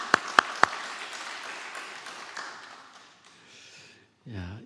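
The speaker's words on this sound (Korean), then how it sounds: "우리 박수 한번 쳐줍시다" A congregation at a Sunday church service claps: a few sharp, close claps swell into brief applause that fades away, and then a voice begins speaking.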